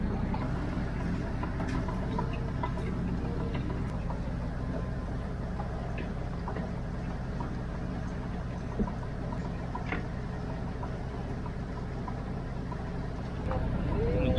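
A fishing boat's engine runs slowly at sea in the Sundarbans, giving a steady, low, rumbling drone that stays level and continuous throughout with no clear breaks.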